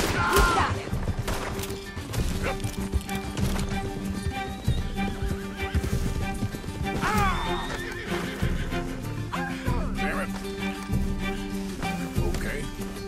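A horse in Red Dead Redemption 2 gallops with rapid clip-clopping hooves and lets out loud whinnies and neighs, over game sound effects, with occasional crashes and a voice speaking.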